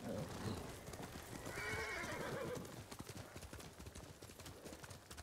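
A horse in Ghost of Tsushima gives a whinny over a steady run of clip-clopping hooves. The hoofbeats are rhythmic and fairly quiet throughout, and a voice is briefly heard.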